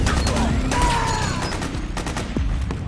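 Dense gunfire from the video game Metal Gear Solid IV: Guns of the Patriots, with rapid bursts of automatic fire and scattered single shots running continuously and loudly under shouted commands.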